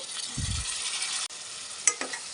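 Chopped tomatoes sizzle in a hot pan with green chillies for a brinjal and egg curry, a steady bright frying hiss broken by a low stir at the start and a couple of sharp scrapes near the end.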